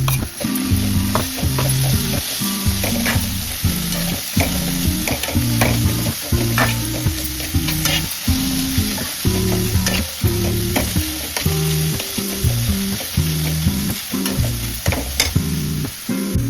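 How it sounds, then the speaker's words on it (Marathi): Ground chutney with onion and tomato sautés in a pan for harbhara bhaji, a continuous loud sizzle broken by frequent rhythmic scraping stirs of the spatula, with no voices. "आता चांगली परतवून घेतली आहे."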